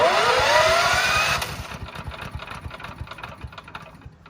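A Kubota lawn tractor's small engine whines as it is electrically cranked, then catches and runs at a rough, pulsing idle close by.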